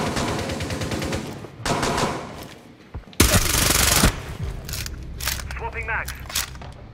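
Gunfire in a ranked match of Tom Clancy's Rainbow Six Siege, with bursts of automatic fire and loud sharp shots among scuffling movement, while players talk over the action.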